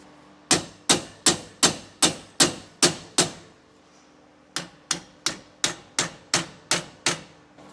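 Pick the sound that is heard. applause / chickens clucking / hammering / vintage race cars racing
hammering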